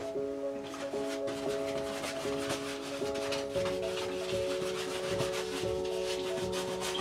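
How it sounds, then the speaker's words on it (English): Paintbrush scrubbing liquid white onto a canvas for a Bob Ross style landscape painting; steady, repeated bristly rubbing strokes, close and fairly quiet, with a faint tonal hum underneath and no talking. "I'm going to actually force and just going to scrub this liquid white"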